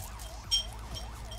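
An ambulance siren wails in the video game GTA V with the LSPDFR mod, its pitch sweeping up and down in a steady repeating cycle over a low engine drone, moderately loud and close.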